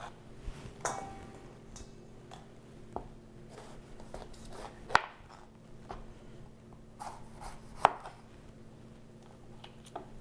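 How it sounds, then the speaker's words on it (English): A Kyocera ceramic knife slices food on a cutting board with soft, scattered cuts and a few sharper taps against the board, quiet and close. "So I recently got this ceramic knife and it's really sharp. Makes it really easy to slice things."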